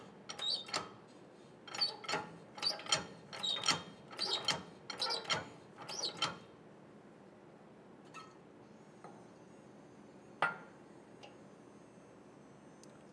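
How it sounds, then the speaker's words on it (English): A hand-pumped shop press pushes a bushing into a KRX 1000 steering rack, giving a run of about eight rhythmic ratcheting clicks and creaks, then quieter scattered ticks and a single sharp metallic knock. "we're going to pump away and push that in nicely"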